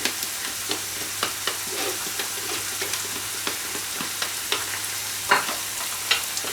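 Chopped, peeled tomatoes hitting a hot frying pan over softened peppers, giving a steady loud sizzle with regular stirring scrapes and light taps, close and continuous without talk.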